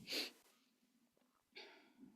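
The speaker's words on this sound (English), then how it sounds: "I feel like I'm going to sneeze." A sharp, breathy sneeze bursts out close by, and after a quiet pause a second loud, hissing exhale or sneeze follows.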